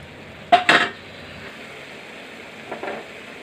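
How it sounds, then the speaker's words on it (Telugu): Salt stirred into a simmering tomato curry: two short scraping, clinking stirs of a spoon against the pan near the start, then a fainter pair later, over a low background of cooking. "సాల్ట్ వేసి ఈ విధంగా కలుపుకోవాలండి."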